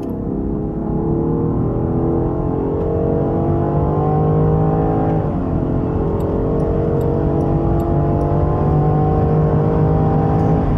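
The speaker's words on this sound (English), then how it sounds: "then we'll accelerate it out, do some kickdown, and let's go." A Land Rover Defender accelerates hard on a freeway with a kickdown, its engine note climbing in pitch, briefly dipping at a shift, then rising again under a continuous loud road and wind roar.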